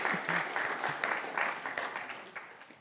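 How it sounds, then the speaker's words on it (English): A church congregation claps for the scripture reader after a reading, a steady wash of applause lasting about three seconds and fading slightly toward the end, with no voices over it. "Don't usually get an applause, do you?"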